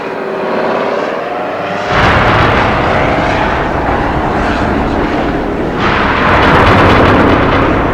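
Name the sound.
Osprey hybrid tiltrotor US military aircraft flying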